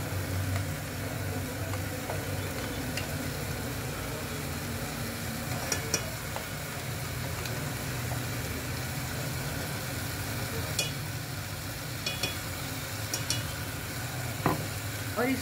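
Tomato masala gravy for Malvan-style tomato saar sizzles and is stirred in hot oil, a steady close fizzing hiss with scraping spoon strokes and scattered clinks and pops throughout.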